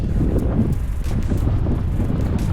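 Strong wind buffets the microphone on a fishing boat anchored over a wreck in a current, a loud continuous low rumble with gusty swells.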